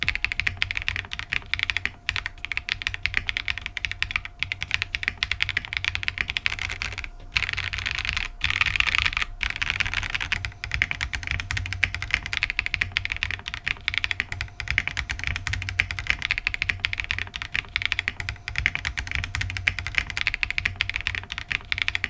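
Someone types steadily on a Zoom65 V2 mechanical keyboard fitted with gaffer tape over the flex cuts, giving a dense, continuous run of close, crisp keystrokes with brief pauses and no voices.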